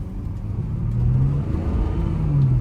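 A 400 HP BMW 340i xDrive with the B58 engine drives on a snowy road, its steady low engine rumble rising slightly under acceleration amid continuous road and tyre noise, heard from inside the cabin with no talk.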